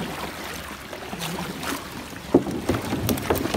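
Paddles dip and splash as a homemade boat moves through water, irregular soft sloshing strokes under light wind noise, with a few closer splashes toward the end.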